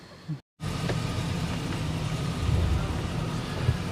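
A car rolls through the entrance booth of Dam Site Lake COE Campground near Eureka Springs, Arkansas, giving a steady engine and road rumble after a brief cut near the start, with no talking.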